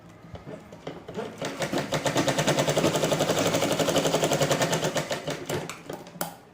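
A sewing machine stitches the shoulder seam of a blouse, running in a steady, loud burst of rapid needle clatter that builds up and then slows to a stop.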